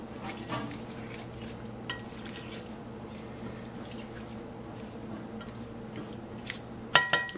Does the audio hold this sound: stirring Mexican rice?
yes